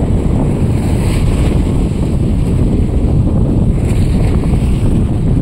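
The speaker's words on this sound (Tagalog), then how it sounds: "Sobrang lakas ng alon." Strong sea waves and gusting wind buffet the microphone aboard a boat near Sta. Teresa Port in Magsaysay, Occidental Mindoro, a loud, unbroken roar of surf and wind with deep rumble throughout and no voices.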